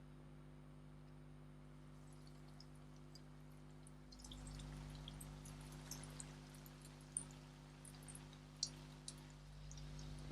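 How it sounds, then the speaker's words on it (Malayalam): Banana flower cutlets fry in hot coconut oil, a quiet steady hiss that swells partway through, with scattered small pops and crackles and no talking. "വെളിച്ചെണ്ണ ചൂടായിട്ടുണ്ട്. നമുക്ക് കട്ട്ലേറ്റ് വറുത്തെടുക്കാം."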